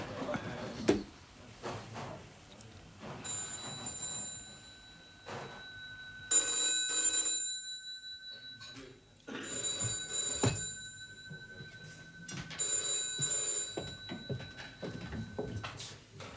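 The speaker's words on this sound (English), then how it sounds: "Phone." An old-style telephone bell ringing indoors in a police drama scene, several rings in repeated bursts separated by pauses, with scattered background movement and bumps between them.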